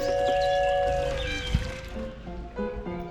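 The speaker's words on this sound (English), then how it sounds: "Plastic jars are pushed into water, and by their flutes and water lily flowers and leaves, They produce sounds in harmony with the plants" Plastic jars pushed into a pond among water lilies in a historic botanical garden in Padua, giving soft bell-like ringing tones and gentle watery gurgles that sustain, then fade into lighter, sparser chimes.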